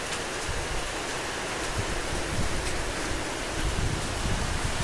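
Hail falling on a house, a dense, even roar of small ice impacts with scattered sharper ticks, steady throughout and no voices.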